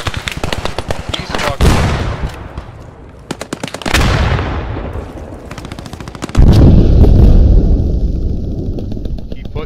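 Loud bursts of rapid gunfire and heavy blasts, including a large TNT charge explosion, erupt in close succession in the World War II shooter Post Scriptum, the last blast rumbling on with a long tail.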